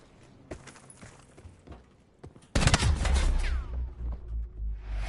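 Video game gunfire crackles in sparse scattered shots, then erupts into a loud, sustained burst of rapid fire and booms that carries through to the end.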